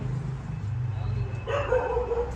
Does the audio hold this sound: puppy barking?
yes